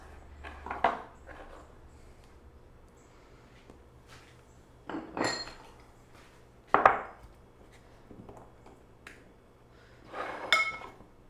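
A knife slices vegetables for a Mediterranean mezze platter on a cutting board: four separate, crisp cutting strokes spaced a couple of seconds apart, close and clear in a quiet room.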